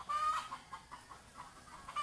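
Startled chickens cluck repeatedly at close range, a steady series of short clucks with a higher squawk at the start and end, no voices.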